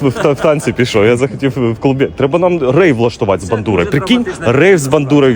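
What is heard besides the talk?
No everyday noises stand out.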